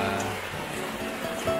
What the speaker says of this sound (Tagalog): Umuulan.